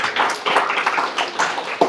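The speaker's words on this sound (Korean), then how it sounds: "영광의 박수 올려드리겠습니다." A church congregation gathered for a joint worship service breaks into applause, a run of uneven clapping bursts rising and falling across about two seconds.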